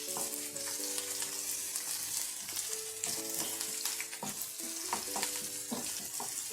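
Onion sautéing in hot oil in a pan, a dense, close crackling sizzle with repeated scraping from stirring throughout, no talking.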